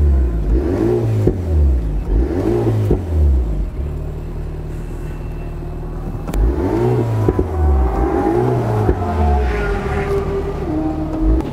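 An Alpine A110S sports car engine revs repeatedly in surging bursts, its loud active exhaust burbling and rumbling between pulls, close by.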